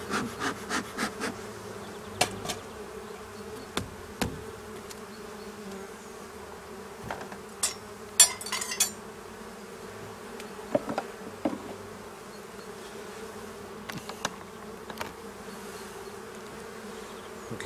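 Honeybees buzz around an open beehive during a spring inspection on a mild day, a steady close hum with sharp knocks and scrapes from hive parts, no voices.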